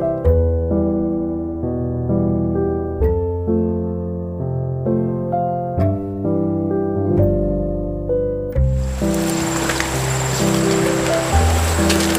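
Background music with a steady plucked melody plays for most of the stretch, then gives way abruptly to the loud, continuous rush of a river flowing through a forest.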